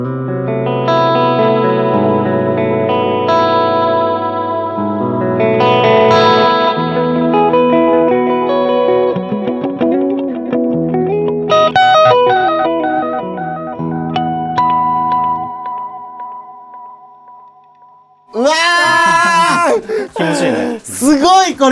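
Clean electric guitar run through a 1960s Echoplex EP-2 tape echo with no overdrive, playing sustained chords and melodic lines with warm repeating echoes for about eighteen seconds, then people talk briefly at the end.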